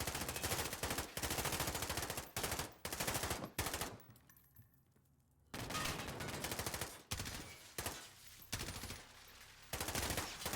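Loud machine gun fire in Call of Duty Modern Warfare comes in long, dense bursts, broken by a short quiet lull before the shooting resumes in repeated volleys.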